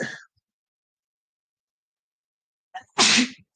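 A single loud sneeze bursts out near the end after silence, preceded by a short inhale, with a brief voice fragment at the start.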